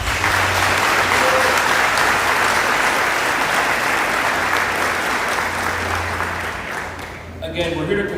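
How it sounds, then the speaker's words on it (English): A large crowd at a recruit class graduation ceremony gives sustained, loud applause for the families, a dense roar of clapping that fades slightly near the end as a voice starts to come in. "So I'd like to have a round of applause for your families."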